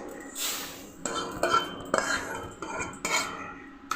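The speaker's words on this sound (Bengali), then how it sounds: "আমি মুগ ডালটা এখন নামিয়ে নিচ্ছি।" Roasted mung dal being scraped and taken out of a hot pan, with several clear metal utensil scrapes and clinks against the cookware at close range, with no voices.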